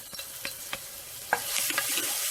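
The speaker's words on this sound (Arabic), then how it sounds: "هذا الزيت نتاعي حطيته فوق الغاز باش نبدا نحط فيه الثوم" Garlic frying in hot oil on a gas stove for a Tunisian winter soup, a few sharp utensil taps and then a sizzle that swells and stays close and steady.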